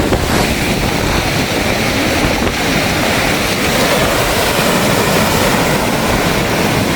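Stormy seas at Point Pedro pound the shore under a strong wind, a dense, continuous roar of crashing surf and gusting wind buffeting the microphone throughout.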